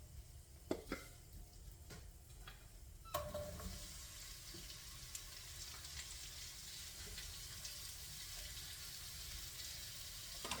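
Onions and garlic sizzle in a pan for a steak sandwich, a steady broadband frying hiss that swells after a few clattering knocks of utensils early on, with no voices.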